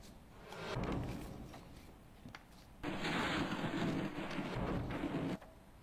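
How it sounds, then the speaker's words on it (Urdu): Heavy downpour with thunder in Chamalang, Duki, steady broadband rain noise with low rumbling swells that surge louder midway, no voices present. "ادھر دکی کے چماولنگ میں گرج چمک کے ساتھ موسلا دھار بارش جاری ہے"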